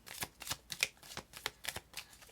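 Tarot cards are riffled and shuffled in a quick series of crisp flutters and soft slaps, about eight bursts in close succession, near and clear with no speech.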